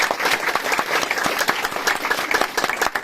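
A crowd at a political gathering claps steadily to welcome a new party member, a dense, loud, continuous burst of applause with no let-up.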